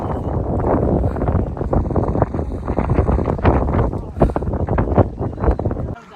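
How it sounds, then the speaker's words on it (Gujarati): Steady wind gusting across the microphone on the road up to Don hill station in Ahwa, Dang, a low continuous rumble with a voice talking over it throughout. "પવન આવે સરસ મજાનો."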